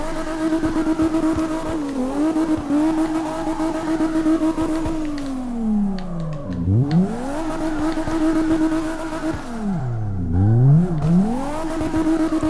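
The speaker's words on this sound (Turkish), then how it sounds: "Çok iyi abi, egzoz sesi filan da çok iyi." A BMW E34 M5 tuned to 900 hp drifts in CarX Drift Racing Online, its engine howling steadily with loud exhaust, dipping into deep swooping pitch drops twice as the revs fall and climb again.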